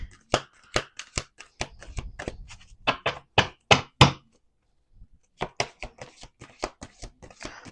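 A deck of slightly sticky oracle cards is shuffled by hand, a rapid run of sharp close slaps and riffles, then a short pause before another burst of crisp taps.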